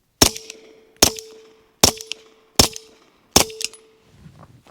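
Five sharp, evenly spaced shots from a SAR9 SOCOM pistol fitted with a suppressor, each a crisp crack with a short ringing tail, close by, ending in faint rustling.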